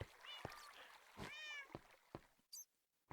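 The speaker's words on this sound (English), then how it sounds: "Yeah, so that's a cat in a minecart" A cat in a minecart in Minecraft meows several times in short separate calls, close and clear, with a couple of brief soft clicks between them.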